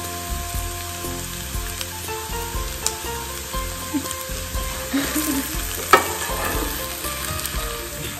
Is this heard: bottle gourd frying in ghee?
yes